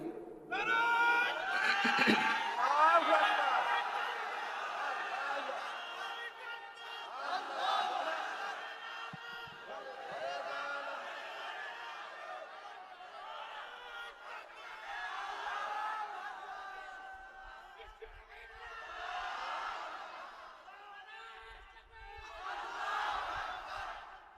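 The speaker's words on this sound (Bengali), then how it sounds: "এত জোরে তাকবীর দিবেন, দেন তো দেখি" A large crowd at a religious gathering roars takbir together in loud, repeated waves of shouting, swelling and fading several times with brief pauses in between.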